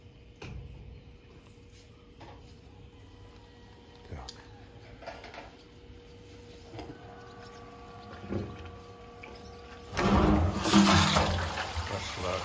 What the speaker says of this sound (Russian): Пошла вода.